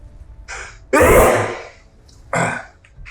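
Sneezes break out close and loud, a sharp burst followed by a second shorter sneeze, with a quick intake of breath before them; no speech.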